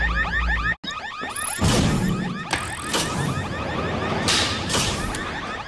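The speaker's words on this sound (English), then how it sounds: "the slightest motion and the alarm goes off" A building alarm blares with a fast, repeating electronic warble, loud and steady throughout, joined by sharp clanks and a crash partway through.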